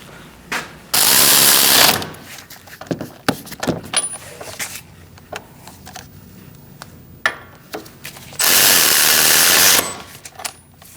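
A power tool, likely an impact driver, snugs wheel hub bolts on a 2016-2019 Chevrolet Cruze during a front wheel bearing and hub replacement, two loud one-second bursts separated by scattered clinks and handling noises.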